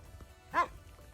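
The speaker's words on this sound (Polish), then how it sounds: "Za drzewkiem jest schowany piesek, szczeka na nas." A fairly large dog hidden behind a tree barks once at hikers on a mountain trail on Hymettus near Athens, a single short bark at a moderate distance over quiet outdoor background.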